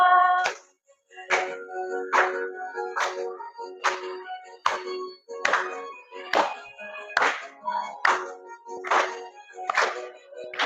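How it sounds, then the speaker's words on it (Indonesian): Children clap their hands in a steady rhythm of about a dozen sharp, fairly close claps, with a brief pause near the start and no talk. "Oke, tepuk tangan."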